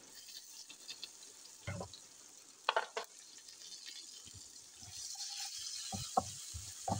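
Chopped small onion frying in a pan gives a soft background sizzle, broken by scattered clinks and scrapes of stirring, with the sizzle swelling a little in the second half.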